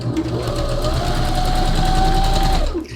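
Sewing machine stitching a sleeve in stretch fabric in a workshop, running a single loud, steady, close burst of rapid motor whir and needle chatter for almost three seconds before stopping.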